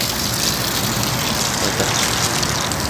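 Water being poured over soapy socks during hand washing gives a steady, continuous gushing splash that stays at one level for a few seconds, with no talking.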